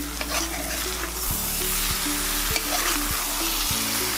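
Prawns roasting in a pan, stirred with a spoon that clanks rhythmically against the metal every half second or so over a loud, continuous sizzle.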